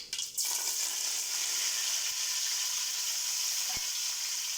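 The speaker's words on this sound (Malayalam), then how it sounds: "കടുക് പൊട്ടിക്കഴിയുമ്പോൾ കറിവേപ്പില ചേർത്ത് കൊടുക്കാം." Curry leaves crackle in hot oil right after mustard seeds have popped, making a loud, continuous hissing sizzle close by for egg rice. One sharp burst opens it, and a couple of faint clicks come later.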